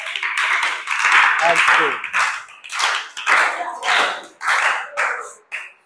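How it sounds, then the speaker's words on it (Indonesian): Junior high students in a classroom clap for a class group in a string of short, rhythmic bursts. The clapping comes through fairly close and loud, with people talking in between. "Tepuk tangan dulu kelompok 4."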